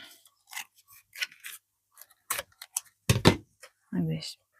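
Scissors snip crepe paper in several short, sharp cuts while shaping a giant paper rose, the crisp chops scattered between pauses and fairly close.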